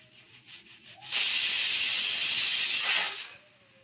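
A loud, sustained steam hiss from a pressure cooker whistle, cooking amaranth greens for a curry, bursts in for about two seconds, then cuts off.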